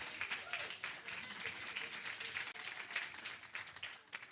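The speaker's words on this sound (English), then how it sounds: "Let's give them another round of applause" Applause from a congregation at a Sunday church celebration after a birthday tribute, a steady wash of clapping throughout, moderately loud, with faint talk mixed in.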